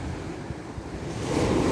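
Sea waves wash against the shore in the early morning, a steady rushing surf mixed with wind buffeting the microphone, swelling louder toward the end.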